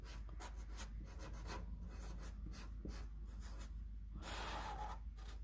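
Handwriting on paper, a continuous scratchy rubbing of short pen strokes over a steady low hum, with a louder, rougher scribble near the end and no voices.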